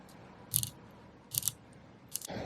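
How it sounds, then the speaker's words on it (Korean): A 60-click bidirectional bronze diver watch bezel turned by hand gives three short bursts of crisp, solid clicks, close up and fairly loud, over a quiet background with no talking. "양쪽 방향으로 다 움직이는 60 클릭의 베젤인데 묵직한 클릭 소리를 가진 탄탄한 베젤입니다"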